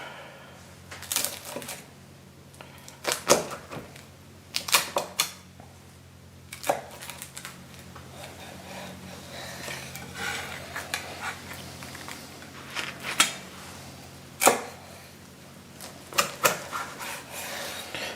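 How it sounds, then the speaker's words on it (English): A knife cuts a Philly cheesesteak pizza in half, with repeated scraping, crunching strokes through the crust in irregular bursts, close up against a quiet background. "let's cut this bad boy in half."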